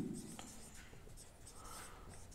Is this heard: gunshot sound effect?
no